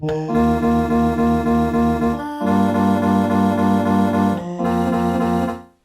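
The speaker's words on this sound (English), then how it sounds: "Now we sort of have a playable ARP instrument." Buzzy synthesizer tones pulsing in a rapid repeating arpeggio pattern, changing pitch in three sections, loud and upfront.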